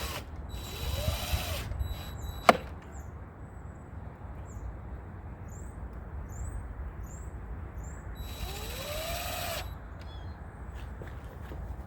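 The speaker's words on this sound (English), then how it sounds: "Okay, just put the two screws back where they were." Screws are driven back into the mirror of a 2020 Ford Transit van with a power tool in two short, faint whirring bursts several seconds apart, with a sharp click between them and quiet background hiss.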